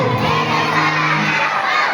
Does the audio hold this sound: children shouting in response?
yes